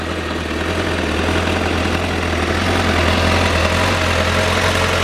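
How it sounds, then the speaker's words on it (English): A Honda Fireblade motorcycle on its standard exhaust idles steadily after starting, a close, even low rumble holding for the whole stretch with no talk over it. "the standard exhaust sound of a Fireblade"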